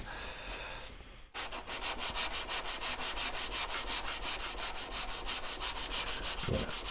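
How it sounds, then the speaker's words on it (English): Sandpaper worked by hand back and forth along a rough wooden edge, a steady rhythmic rasping of even strokes, close and loud, with a brief pause near the start. "Work over the length of the sandpaper, just moving it around"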